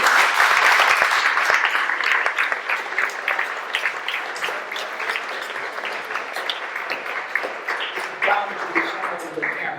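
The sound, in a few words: applause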